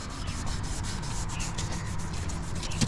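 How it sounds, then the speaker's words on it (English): A red scuff pad, equivalent to 320 grit, rubs over a truck's painted surface, making a steady, close abrasive scrubbing with quick repeated back-and-forth strokes and no talk. "I'm going to scuff away the shine"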